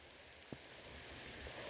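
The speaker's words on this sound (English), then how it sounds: "it's raining pretty hard" Heavy rain falls steadily as a broadband hiss across the whole short stretch, drumming on a surface outdoors during a fishing trip, with one brief thump partway through.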